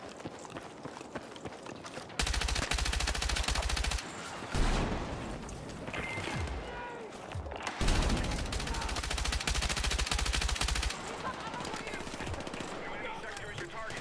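Sustained light machine gun fire in Battlefield 6 on the Cairo Bazaar map, two long dense bursts rattling loudly with battle noise and brief pauses between them.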